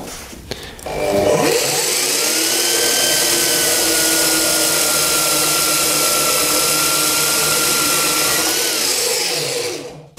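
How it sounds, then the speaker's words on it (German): A cheap discount metal band saw spins up and cuts through a 1 cm round steel bar, a loud steady whining drone with a high tonal ring that holds for several seconds before winding down. "Jetzt sägen wir noch mal ein Stück ab"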